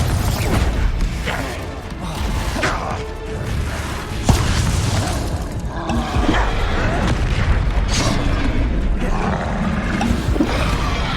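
A Confringo fire spell explodes in Hogwarts Legacy, a sharp boom landing about four seconds in over a dense, busy bed of combat noise, rumbling effects and creature roars that continues throughout.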